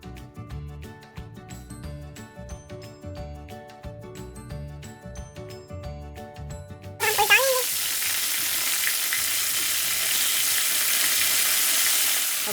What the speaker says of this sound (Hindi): अब ये हमारे पास फ्राई हो गए हैं फ़िश फिंगर्स, ठीक है।